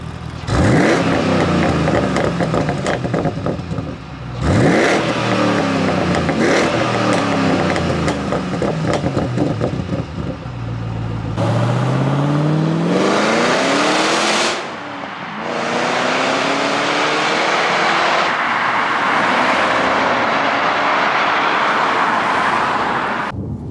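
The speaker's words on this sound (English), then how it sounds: "Okay, so we're going to go for a little spin in the HSV." A Holden HSV GTS engine revs hard through several rising gear pulls while driving, loud and close with no talking, then settles into a steady roar.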